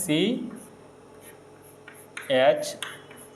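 Chemistry formulas are written on a board in short scratchy strokes, with a voice briefly talking at the start and again partway through.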